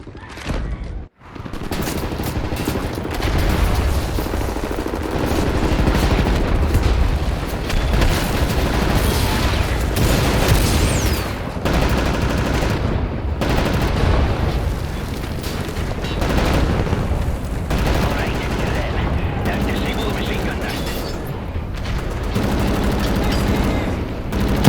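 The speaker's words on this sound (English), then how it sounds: "Right, lads, you ready to lay down suppressor fire?" Sustained suppressing machine-gun fire and battle booms from the shooter game Wolfenstein The New Order fill a long, dense stretch. Rapid bursts and heavy blasts overlap almost without pause, loud and close.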